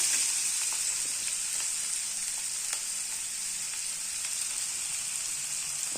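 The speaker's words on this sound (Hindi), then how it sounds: "पियाज पूरा भल से भाजी हो जाइए।" Onions frying in a pan for a potato curry, a steady close sizzle and hiss with faint stirring clicks, no voices.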